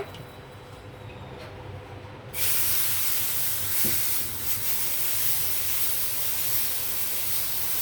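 Uttapam batter poured onto a ghee-greased griddle, a soft hiss that jumps into a loud, steady broadband sizzle partway through and holds to the end.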